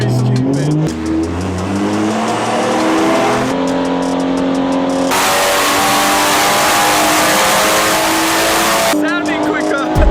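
A loud, stage 3 tuned BMW M140i engine revs hard and climbs through the gears, with sharp shifts and a roaring exhaust close by, some talk underneath.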